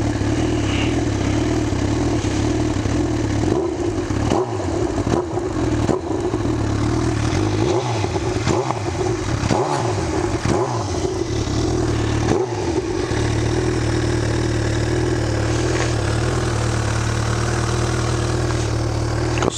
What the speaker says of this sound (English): This is what the bike sounds like when it's on idle.